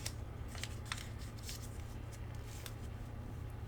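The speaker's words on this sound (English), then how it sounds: "take this flap over here and fold it to the left side" Origami paper being handled and folded into a flap for a Starsea Kusudama star ball unit, giving close, crisp rustles and sharp creasing crackles in quick irregular bursts over a faint steady hum.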